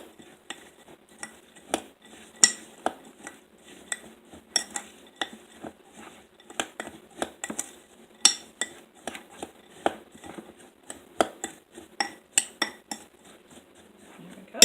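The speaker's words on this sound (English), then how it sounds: "I'm just going to stir it all together." A spoon stirs cinnamon, sugar and melted butter streusel in a bowl, making rapid, irregular clinks and scrapes against the sides that are sharp and close, with no voices over them.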